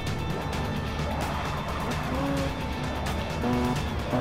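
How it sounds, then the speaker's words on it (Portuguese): A car engine races in the video game Forza Motorsport 6, holding a steady, powerful drone with a brief tire squeal as it speeds along a track, with no voices. "Vamos ver se o carro passa de 180."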